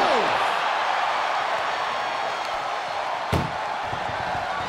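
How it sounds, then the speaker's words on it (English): An ambulance door slams shut during a wrestling ambulance match: one sharp, loud bang about two-thirds of the way through, over a constant roar of crowd noise and voices. "Look at the struggle just to shut that first door. One door is shut."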